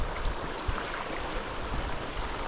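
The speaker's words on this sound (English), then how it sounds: "Bunch of little waterfalls." Small waterfalls on the Casselman River make a steady broadband rush of falling water, continuous and fairly close, with no other sounds over it.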